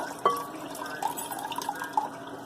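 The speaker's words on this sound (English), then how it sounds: "So, pour the juice off." Juice from canned pineapple pours out in a thin stream, trickling and dripping with small liquid plinks against a container, close and fairly quiet with no talk.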